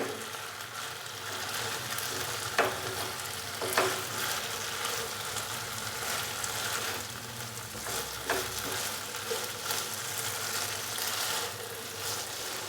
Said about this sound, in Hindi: अभी मैं इसके अंदर फ्राई किया हुआ चिकन डाल दूंगा। अच्छे से हम इसको मिक्स करेंगे।